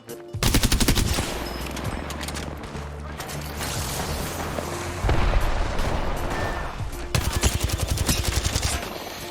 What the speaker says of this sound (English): I can just shoot him in the back.